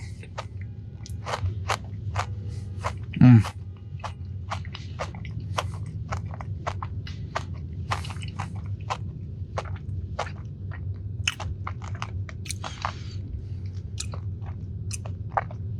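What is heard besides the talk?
crunchy Dubai chocolate brownie being bitten and chewed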